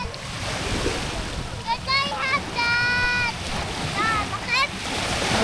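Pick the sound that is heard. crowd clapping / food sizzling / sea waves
sea waves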